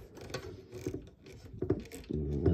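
A small screw is driven into a plastic part of a Toyota Supra model car, giving close, quiet ratcheting clicks and scraping turns in short uneven bursts.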